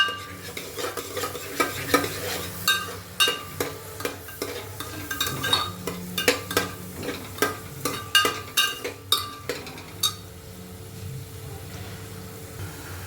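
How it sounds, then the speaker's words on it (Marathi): Onion sautés in melted butter for pav bhaji, with a soft sizzle beneath repeated sharp scrapes and knocks of a spoon stirring against the pan, up close and without talk. "आता याच्यामध्ये आपण कांदा घालूया कांद्याला छान असं परतवून घेऊया"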